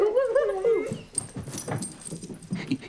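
A dog whimpers in a comedy scene, giving a run of high, wavering whines in the first second before trailing off into quieter shuffling noises close by.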